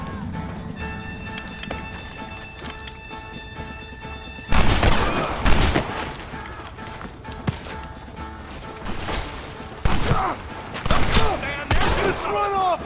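Gunfire from the video game Red Dead Redemption, with several sharp shots and volleys starting partway through alongside hoofbeats and game noise, while voices shout over the action.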